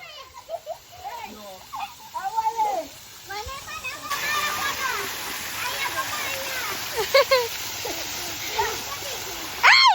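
Children splash water in a homemade swimming pool at home, with continuous splashing and spattering throughout while kids' voices talk and call over it.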